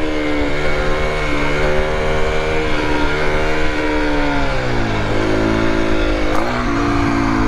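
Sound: Aprilia SX 125 motorcycle engine revving during wheelie

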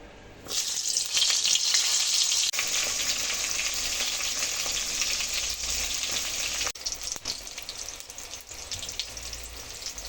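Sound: pointed gourd frying in oil

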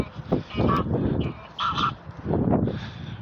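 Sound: geese honking while chased by dog

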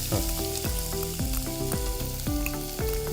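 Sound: onion frying with garlic cloves in oil

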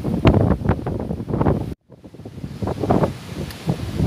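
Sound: wind blowing into the microphone outdoors

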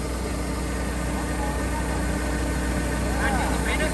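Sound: tractor engine running during harvest

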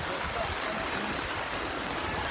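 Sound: flood water overflowing

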